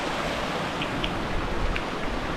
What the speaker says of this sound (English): Oh, you see these little waterfalls coming down.